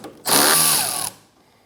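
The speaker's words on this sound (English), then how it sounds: "we can use a ratchet on the other side just to get it out" A ratchet spins out a control arm bolt on a 2009-2017 Audi Q5: one loud, steady burst of whirring mechanical noise lasting under a second, alone, cutting off abruptly into near silence.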